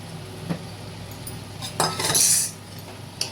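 Prawns coated in turmeric and salt go into a pot and are stirred, with clinks of a metal spoon against the pot and a brief wet rustle, close and fairly quiet.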